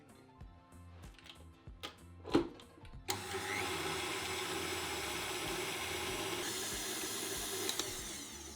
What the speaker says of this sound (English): Whisk the cream with an electric whisk until thick.